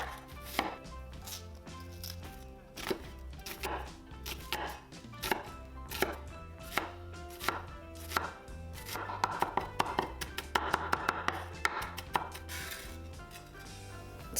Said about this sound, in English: Mince the shallot.